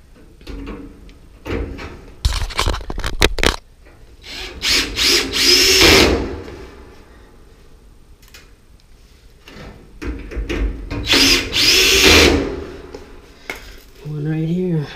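Power drill driving bracket screws into a Samsung dryer (DV45H7000EW/A2) during a repair, heard in several short whirring bursts close by, with someone talking between them.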